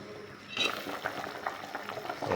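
A pot of fish sinigang with radish and moringa leaves comes to a rolling boil, a steady bubbling and gentle sizzling that swells after a quiet start and keeps up close by.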